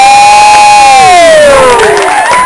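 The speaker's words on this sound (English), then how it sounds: "give the pastor as best a round of applause and a holler as you can give him" A crowd cheers and hollers for a pastor, with one loud, sustained holler sliding slowly downward in pitch over steady, close crowd noise.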